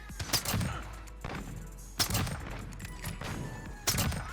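Video game R700 bolt-action rifle fires three loud, sharp shots spaced roughly two seconds apart, each with a booming tail, amid faint background game noise.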